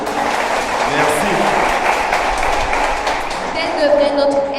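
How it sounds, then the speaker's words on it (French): An audience at a church youth gathering claps in sustained applause, a dense continuous patter of many hands with a voice speaking over it. "Je vous demande d'applaudir plus fort que ça"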